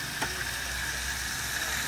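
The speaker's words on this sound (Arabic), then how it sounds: "الحين نخلي الدجاج يتشوح كذا وياخذ لون" Chicken pieces fry in hot oil already used for onions, a steady loud sizzle filling the stretch with one brief clack of stirring near the start.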